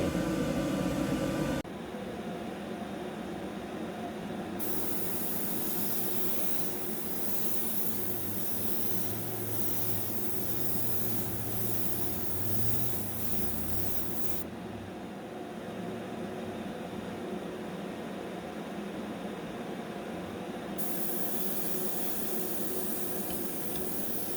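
Airbrush spraying clear coat over an airbrushed demon design, a continuous close hiss of compressed air and spray running steadily for over twenty seconds with no talk.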